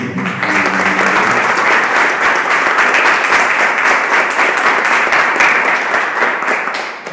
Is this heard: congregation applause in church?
yes